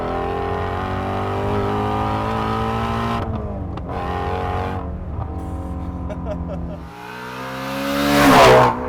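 A Shelby Mustang GT350 on the move, its exhaust popping and crackling over a steady engine drone, with a surge of revs near the end; a voice talks over it.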